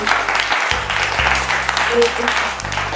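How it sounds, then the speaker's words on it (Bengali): Loud, dense applause from families in the audience at a Senco jewellery store in Nagerbazar, with steady clapping throughout and a low hum underneath. "জোরে হাততালি হয়ে যাচ্ছে অল দ্য লাভলি ফ্যামিলি"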